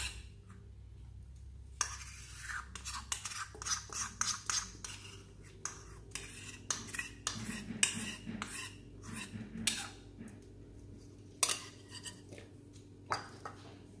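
Korean 24-hour gold whitening lotion is being stirred in a container, giving quiet, steady scraping and clicking strokes in quick bursts that run on for about fourteen seconds, close and fairly faint, with no talking.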